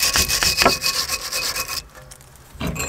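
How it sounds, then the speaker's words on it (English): Stiff wire brush scrubbing the caliper carrier of an Audi TT brake, loud close rhythmic back-and-forth rasping strokes, pausing briefly before a final stroke. "now what we're going to do is just clear with a wire brush the caliper carrier where the pad's sitting"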